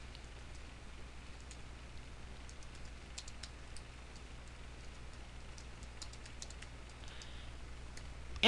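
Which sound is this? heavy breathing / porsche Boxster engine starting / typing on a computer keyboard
typing on a computer keyboard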